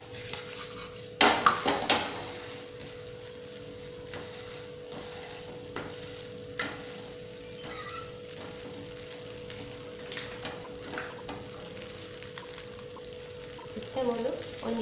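A no-dough paratha fries in oil in a pan on the stove, with a soft steady sizzle, clatter of a utensil against the pan near the start and occasional scraping stirs toward the end.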